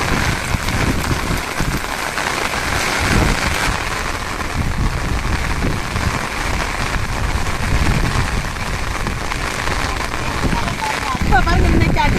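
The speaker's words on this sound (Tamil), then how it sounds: "ரொம்ப மழை பேஞ்சுக்கிட்டு இருக்குது" Heavy rain pours down steadily over floodwater in a village, a dense continuous hiss close by, with voices talking over it.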